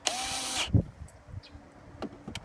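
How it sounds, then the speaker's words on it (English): A power drill whirs in a short burst lasting under a second, driving into a pre-drilled hole while installing an RV door magnet, followed by a thump and quiet knocks and scrapes. "Get your drill lined up for it."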